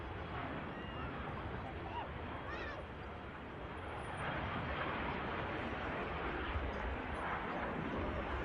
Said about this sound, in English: VistaJet begins the takeoff roll.